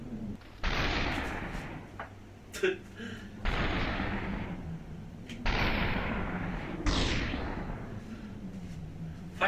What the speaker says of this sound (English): Fucking minigun